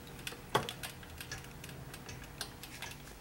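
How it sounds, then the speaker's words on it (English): A homemade electric motor running with its flyback collection removed gives off faint, irregular clicks and ticks, close and quiet over a low background, with no talking. "Now you can hear a click, click."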